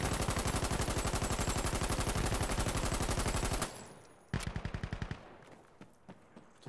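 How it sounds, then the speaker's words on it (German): Rapid automatic gunfire in the video game Insurgency, a long sustained burst of evenly spaced shots that cuts off abruptly, followed by a few scattered single shots and fading reports. "Oh, der hinter mir schießt."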